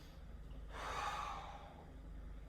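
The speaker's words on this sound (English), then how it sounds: "So I take a deep breath, inhale in. Exhale." One deep breath, drawn in and let out slowly, sounds close and airy as a single long rush of air over a low steady background hum.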